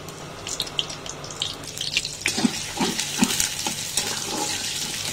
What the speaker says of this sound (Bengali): কিছু পেঁয়াজ আমি এখানে তেলের মধ্যে দিয়ে দিব।